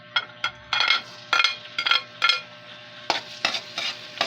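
Garlic added to cooking oil in a pan for Ilocano pinakbet, heard as a series of close, clattering stirs and scrapes of a utensil against the pan over a faint fry, irregular and fairly brisk, with no talking.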